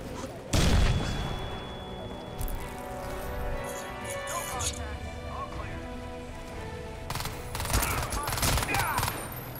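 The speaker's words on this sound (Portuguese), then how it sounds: "Aí vem granada." A grenade blast and gunfire in the video game Crysis 2: a sharp, loud boom early on, then scattered shots and a second burst of heavy firing near the end. Someone talks throughout.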